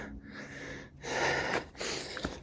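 Hiker panting hard after a muddy bushveld climb, heavy breaths close to the mic in two bursts separated by brief pauses, with huffs and wheezy exhales.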